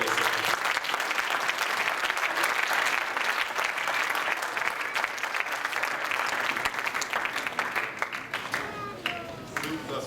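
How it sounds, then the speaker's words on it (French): A church congregation applauds loudly and cheers at a baby's dedication service, with dense continuous clapping and a few voices that thin out toward the end. "Est-ce qu'on peut acclamer très fort le Seigneur?"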